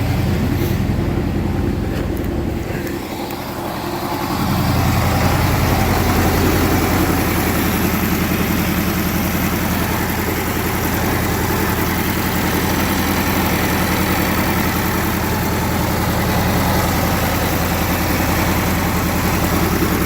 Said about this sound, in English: Gotta love a Kohler, fires right up.